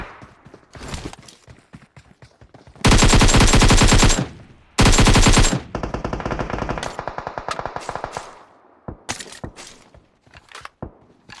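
Automatic gunfire in PUBG Mobile, rapid bursts of shots with two loud sustained sprays in the middle and scattered single shots before and after, close and loud with no talking.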